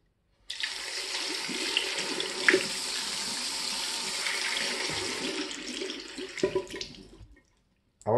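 A strong, steady jet of water runs through a freshly cleaned Nespresso coffee machine whose four outlet holes had been clogged with coffee grounds, a continuous close splashing flow for about seven seconds with a brief burst of clatter near the end.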